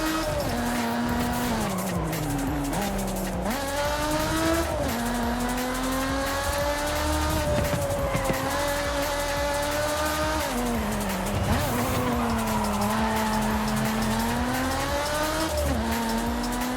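Race cars in the video game Forza Horizon 5, including a Supra, with engines revving up and down through gear changes, tires squealing and skidding, all loud and continuous with no pauses.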